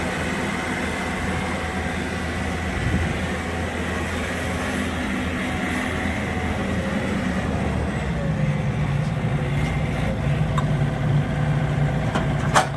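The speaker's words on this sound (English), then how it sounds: "John Deere 1600 Turbo." A John Deere 1600 Turbo mower's engine runs steadily and close by, a continuous droning rumble with no voices over it.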